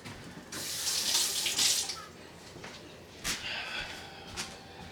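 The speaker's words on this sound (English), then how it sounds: "we rinse this knife off" A kitchen knife rinsed under a running tap, bursts of rushing, splashing water that start and stop, with a louder spurt near the end and faint background noise.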